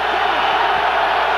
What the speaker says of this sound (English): The fans here are in a fever pitch